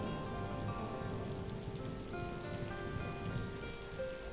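Steady, heavy monsoon rain pours down continuously in a Borneo forest, a dense wash of drops pattering on leaves and surfaces, with no voices.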